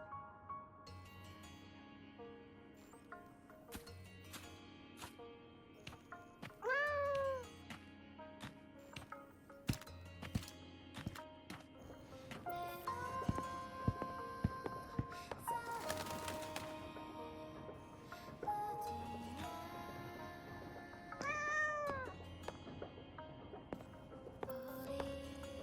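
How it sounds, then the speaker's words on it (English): Cat meowing in the video game Wuthering Waves on the way to a cafe: two short, rising mews heard well apart over soft game music and ambient ticks, fairly quiet. "Oh, cat."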